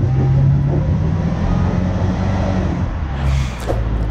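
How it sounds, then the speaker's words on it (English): Brand new Range Rover Sport on an off-road trail, engine and drivetrain roaring steadily as all four tires spin for grip, a loud continuous rumble with a brief scrabbling burst near the end and no talk. "Spinning all four tires right there."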